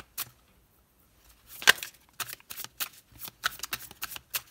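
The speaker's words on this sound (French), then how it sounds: "on va poser les 6 cartes" Tarot cards being shuffled and laid out in quick papery bursts: a few scattered flicks, then a sharp snap and a run of rhythmic riffles and slaps, close and fairly quiet.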